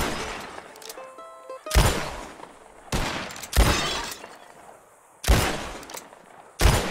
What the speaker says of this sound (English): Whoever shoots more of these bottles... wings. Just draw your gun and aim when you're ready